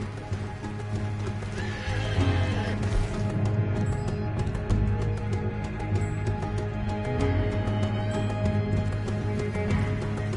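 Horses in the video game Red Dead Redemption II neigh loudly over clip-clopping hooves, with several whinnies rising above a busy background of game sound.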